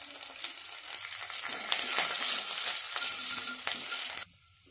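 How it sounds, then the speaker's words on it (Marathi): Curry leaves crackling in hot oil with cumin, mustard seeds and asafoetida for tempering, a dense bright sizzle with sharp pops that cuts off abruptly near the end. "थोडस कढीपत्त्याचे पानं टाकायचे"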